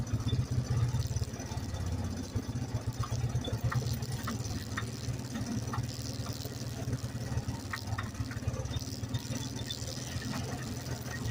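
A four-wheel drive ATV engine idles and runs with a rough, rattling mid-range drone at Black Mountain Off-Road Adventure Park, holding steady and close throughout, with faint intermittent ticking knocks over it.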